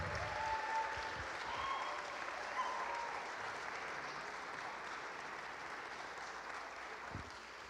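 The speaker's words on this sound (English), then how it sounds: "give the Met dancers and performers another round of applause" Sustained audience applause for dancers and performers after a staging of John Adams's El Niño at Judson Memorial Church, a broad, even wash of many hands clapping in a reverberant hall that slowly tapers off.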